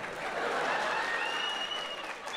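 Audience applause at a comedy show, as a steady wash of clapping from a crowd at moderate distance, with faint voices mixed in.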